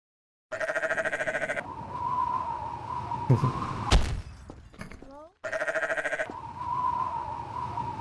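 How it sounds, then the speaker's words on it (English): Baby sheep in the Garry's Mod video game bleat in two long wavering bursts, clear and close, separated by a stretch of game noise with a sharp crash. "Guys, look, there's a little baby sheep."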